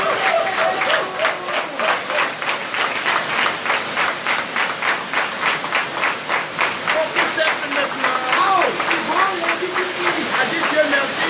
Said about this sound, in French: Veuillez vraiment applaudir Seigneur